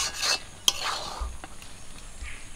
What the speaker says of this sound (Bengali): ভিনিগারটা দিয়ে হালকা একটু নাড়াচাড়া করে নেব